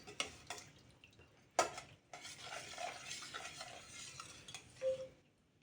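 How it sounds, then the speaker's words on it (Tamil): A spoon stirs a rice and lentil mixture in a pot, with faint scraping swirls, a few sharp metallic taps against the rim and a low background sizzle. "இப்போ நல்லா கலக்கி விட்டுக்கலாம்."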